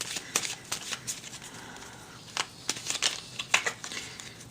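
Tarot cards being shuffled by hand, with a quick series of riffling snaps and soft clicks in uneven bursts, close and fairly quiet, with no voices.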